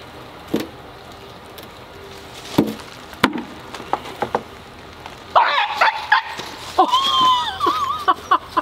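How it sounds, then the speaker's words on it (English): A dog yelps and whines after touching an electric fence on a rural property, with scattered knocks and thumps first, then a burst of high, wavering yelps and cries near the end. "Dog just found the electric fence."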